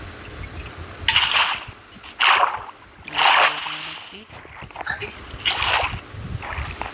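Water from a bucket splashes in Minecraft survival gameplay, coming as several separate sloshing bursts spread over the span, with a voice talking in between.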